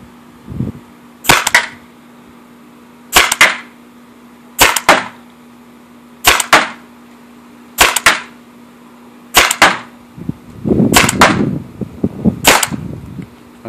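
A Tippmann TiPX paintball marker fitted with a Hammerhead barrel fires eight sharp, loud shots spaced about a second and a half apart, each a crisp crack, with a brief clatter after the last.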